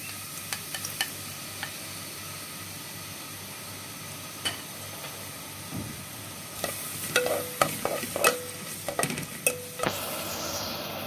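Onion fries in a tagine as the base for a seafood soup, a constant close sizzle joined midway by brisk stirring and repeated scraping clinks of a utensil against the pot.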